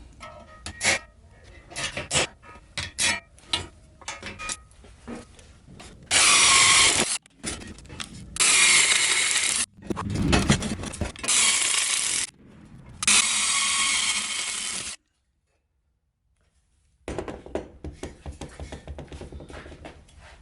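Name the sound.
power drill drilling holes in car for battery mount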